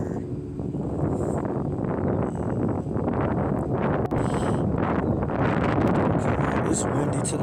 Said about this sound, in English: Okay, it's windy today.